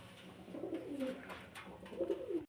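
Lahori pigeons, including black-coloured birds at a fancy pigeon farm, give soft, low, throaty coos that repeat in a loose rhythm across the clip. The birds sound close, with no talking.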